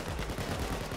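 Rapid bursts of gunfire from the video game Payday 2 during an armored truck heist, with dense, loud, closely spaced shots over a constant din.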